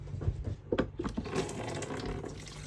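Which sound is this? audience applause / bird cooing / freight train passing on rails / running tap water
running tap water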